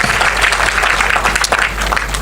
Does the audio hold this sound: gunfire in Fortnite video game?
no